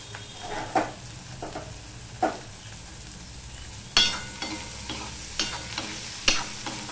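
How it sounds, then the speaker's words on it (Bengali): Onion, green chili and garlic fry in hot oil under a soft continuous sizzle, broken by sharp spatula scrapes against the pan about once a second, close and fairly loud. "এগুলো লাল লাল করে আমি ভেজে নেব।"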